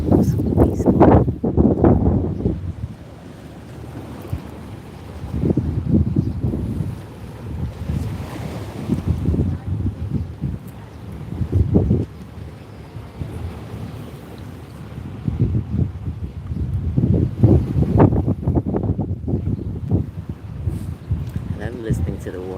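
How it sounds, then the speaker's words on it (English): Waves wash against rocks on a beach, a steady surging rush with rising and falling swells, heavy wind noise buffeting the microphone and a voice talking over it at times. "I love listening to the water as it hits the rocks."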